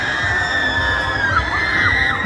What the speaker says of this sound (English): you can hear the screams